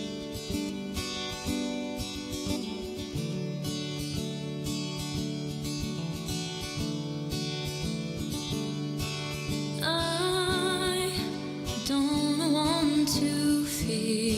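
The recorded pop song plays continuously at moderate volume, a full band mix with steady rhythm and a shift into brighter, busier instrumentation partway through.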